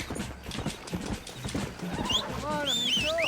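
Horse hooves clip-clop and a horse whinnies in the Red Dead Redemption video game, a rhythmic trot with a shrill neigh near the end, under someone talking.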